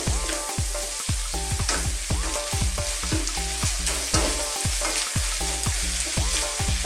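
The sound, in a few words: stirring garlic shrimp frying in butter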